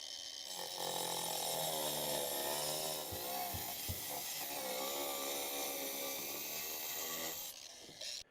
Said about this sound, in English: I've got my grinder with my diamond blade in it.